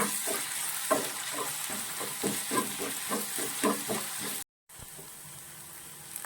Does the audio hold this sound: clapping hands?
no